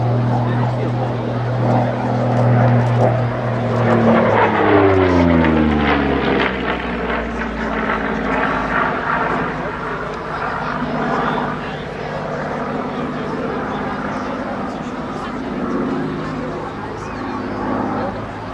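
A Yakovlev Yak-9U-M propeller fighter flying at the Dittingen air show, its engine roaring loudly and sweeping past with a falling pitch, then droning on steadily, with a commentator speaking over it.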